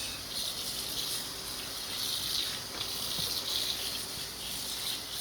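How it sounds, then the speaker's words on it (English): Running water rinsing a freshly dyed two-color spiral tie dye shirt at a sink, a steady close gushing hiss that continues throughout without talk. "We're going to give this one a good rinse."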